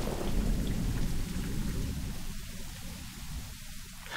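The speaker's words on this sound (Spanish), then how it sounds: "De repente, comenzó a llover copiosamente" Heavy rain pours down in a steady, dense wash with low rumbling that suggests thunder, continuous and fairly loud throughout with no voices.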